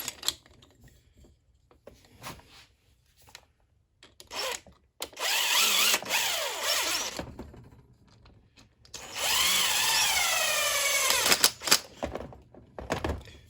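Two bursts of a power tool whirring and ratcheting as it drives bolts onto a 3D-printed seal installer during rear axle seal replacement on a John Deere 1025R tractor, with clunks and handling knocks between them, close by.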